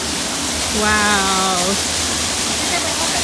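Moving water from a waterfall along a hiking trail roars as a steady broadband rush throughout, with a brief exclaimed voice near the start over it.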